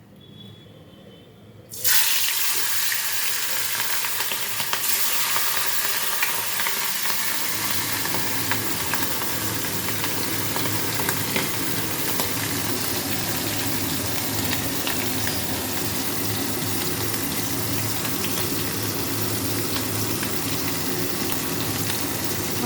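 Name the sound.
hilsa fish frying in hot oil in a wok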